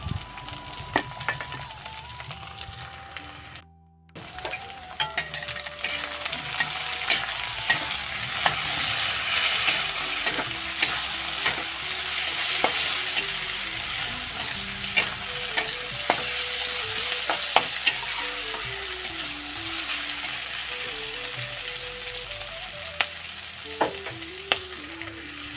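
Crushed garlic, crushed ginger and a cumin-coriander paste fry in hot oil for a chicken dish, with a constant close sizzle and frequent scraping stirs. One brief dropout breaks it early on, and no one speaks over it.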